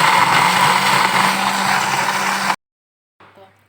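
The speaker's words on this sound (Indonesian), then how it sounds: "Nah, kita blender dulu." A kitchen blender whirs loudly and steadily while blending ingredients for asinan Betawi. It stops abruptly, and a short stretch of quiet follows with faint background sound.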